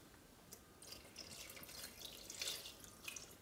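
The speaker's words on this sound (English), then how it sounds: "I am adding about 1 cup of water." About a cup of water poured over koupepia in a pot, a soft steady trickle and splash close by, quiet and continuous for several seconds, with no voices.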